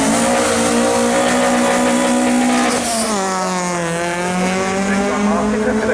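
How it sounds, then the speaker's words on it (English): A Ford Escort Mark 1 race car with a 2-litre engine launches hard at a seafront speed trial. The engine screams at high revs, and its pitch dips and climbs again as it pulls away under loud tyre squeal. "He's in his Ford Escort Mark 1 with a 2-litre engine."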